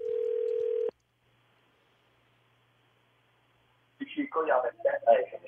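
A single steady telephone tone sounds for just under a second, followed by silence and then a person answering on the line during a radio call-in to a listener.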